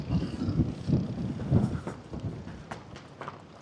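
Blustery wind buffets the microphone while riding a 500-watt folding mini e-bike toward the Jacksonville Beach boardwalk, with irregular low rumbling gusts that ease off toward the end.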